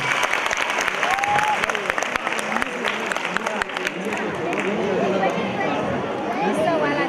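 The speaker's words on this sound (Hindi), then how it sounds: "जोरदार तालियां इनके लिए" Audience applause for a contestant at an Islamic quiz contest, a dense steady clatter of clapping from a crowd, with voices talking over and under it throughout.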